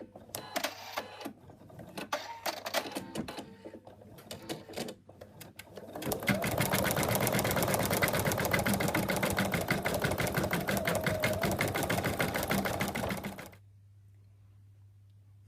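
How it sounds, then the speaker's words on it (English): An embroidery machine stitches the black mouth of a frog applique. Scattered mechanical clicks give way to a loud, fast, continuous run of needle stitching for several seconds, then a sudden stop to a low hum. "The machine's now done the mouth, and now it's going to do the outline for the applique."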